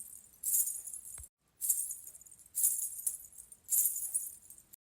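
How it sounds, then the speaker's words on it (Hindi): Small metal anklet bells jingle in four rhythmic bursts, like slow footsteps, bright and clear against quiet night silence with short pauses between each shake. "अचानक उसे बाहर से पायल की आवाज सुनाई दी।"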